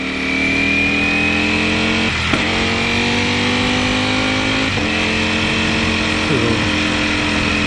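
A 2018 Ducati Panigale V4 Speciale drones steadily while ridden on a bumpy road in street mode, its engine note stepping sharply at several quick-shifter gear changes, with heavy wind rush throughout.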